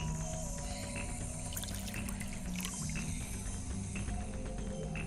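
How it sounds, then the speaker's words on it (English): Saline solution being poured into a beaker in the Zero Escape puzzle game, a steady continuous liquid pour and trickle layered over a constant low game hum, moderately quiet with no speech. "I'll just pour the same solution in there."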